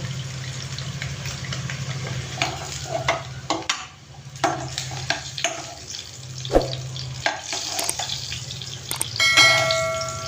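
Eggs frying in hot oil in a pan, with a steady sizzle under scraping stirs and occasional metallic clinks as they are lifted out.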